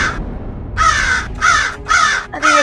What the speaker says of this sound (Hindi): अरे ये कौवा कहाँ बोल रहा है?